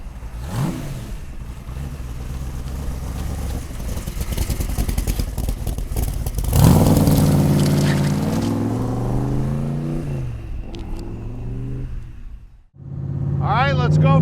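A 1965 Shelby Cobra Superformance with a Keith Craft engine rumbles steadily and then revs up loudly in several rising pulls, with a short gap of near silence before another rev. A voice talks over the engine.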